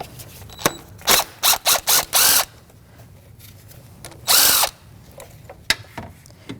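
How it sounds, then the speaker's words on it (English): Power tool with a 10mm socket backing out an ignition coil mounting screw on a 2016-2025 Chevrolet Malibu 1.5L L4, short whirring bursts in quick succession, a pause, then one longer burst, close and loud. "that mounting screw right there is a 10mm socket. I'm going to take that mounting screw right off"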